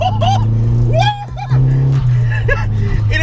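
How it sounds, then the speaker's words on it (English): Engine of a roughly 900 kg VW 6N2 Polo swapped to a 1.8 turbo making about 220 bhp, revving hard in third gear, loud and close, with a brief dip before pulling again. Voices sound over it. "In a 6N2 Polo with 220, 230 brake horsepower third gear"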